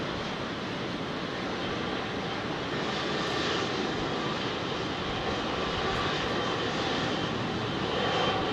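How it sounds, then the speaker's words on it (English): Jet aircraft making a slingshot departure from Heathrow runway 27R, a loud, broad engine roar that holds steady and builds slightly toward the end, alone without talk. "Going for a slingshot departure."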